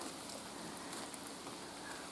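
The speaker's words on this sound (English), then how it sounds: "Yeah, it's definitely still raining." Steady rain keeps falling outside a popup camper after a storm, a soft, even patter that stays faint and continuous throughout with no voices.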